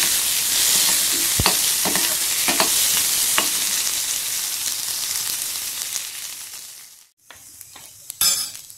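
Onion, ginger and garlic fry in a pan with a loud, steady sizzle and occasional sharp stirring clicks. The sound briefly cuts out near the end, then returns with a clattering burst.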